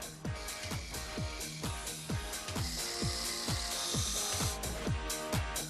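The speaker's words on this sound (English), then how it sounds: "Shave." Electric rotary-head shaver cutting coarse stubble, a steady buzzing motor with rapid repeated rasping strokes about twice per second, close and fairly quiet, with no talking.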